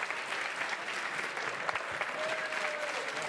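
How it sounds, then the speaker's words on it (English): A crowd applauds steadily at a poker tournament final table, a dense wash of clapping at moderate distance, with a faint voice briefly audible underneath. "the well-deserved round of applause starts to come in for Leo Margetts."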